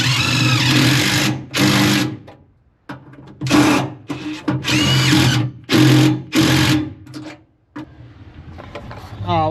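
Power tool tightening U-bolts on a van roof rack, a series of loud close buzzing bursts with short gaps between them.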